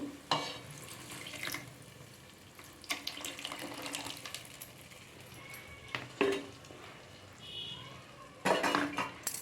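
Tamarind juice mixed into fish curry in a pan, heard as intermittent clinks and scrapes of a utensil against the pan over a soft wet background, quiet and close.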